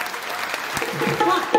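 A crowd claps at the Home Minister community programme in Paranda, a short dense burst of applause. A voice speaks over it toward the end.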